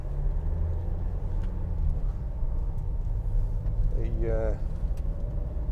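A 2016 Vauxhall Vivaro 1.6 CDTi BiTurbo van on the move, its low engine drone and road rumble steady throughout, with someone talking over it near the end.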